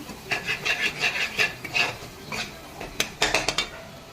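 Onion and spice masala stirred in a pan, a rhythmic run of rasping scrapes and clinks from a spatula against metal, close and fairly loud, with no talking.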